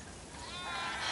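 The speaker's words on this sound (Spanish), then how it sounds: "Definitivamente tenemos demasiadas ovejas." A sheep bleats once inside the video game The Last of Us Part II, a faint, rising quavering call over low ambient noise.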